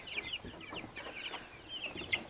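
Chickens and chicks cluck and cheep softly in a quiet coop, scattered high peeps overlapping low murmuring clucks.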